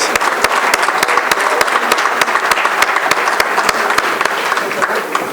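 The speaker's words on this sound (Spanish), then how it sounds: "despidamos nuevamente con un fuerte aplauso a este flamante panel" A conference audience at a Pan-American private security congress claps loudly and steadily after a panel, dense sharp claps filling the room with no voices over them.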